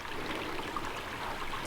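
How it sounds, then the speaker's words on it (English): A babbling brook flows beside a tiny cabin, its water trickling and splashing in a steady, continuous stream, close and fairly soft, with no voices over it. "She likes the babbling brook."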